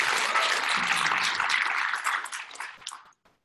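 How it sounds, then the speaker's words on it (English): Audience applause during a road tour event in Dallas, a burst of dense clapping that holds steady and then tapers off into a few last scattered claps before silence. "Give her a round of applause"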